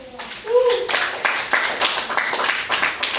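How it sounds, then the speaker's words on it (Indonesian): A class clapping hands during a maths lesson, a short round of sharp, close claps from a small group, with a voice speaking near the start. "Oke, tepuk tangan dulu."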